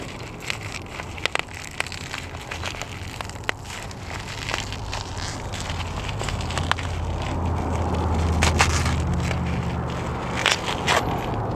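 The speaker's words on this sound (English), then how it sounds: "I'm going to unwrap this and then we're going to take a look at it." Plastic packaging around a left-side frame slider for a 2020 Honda CB650R motorcycle is unwrapped in continuous crinkling and rustling, with sharp crackles and crunches scattered through the handling, close and fairly loud.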